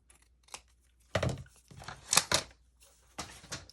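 Scissors trim paper for a handmade mini album, producing a few short, close snipping and rustling bursts separated by brief quiet gaps, with no one talking.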